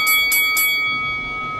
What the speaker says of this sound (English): This 4th inning bell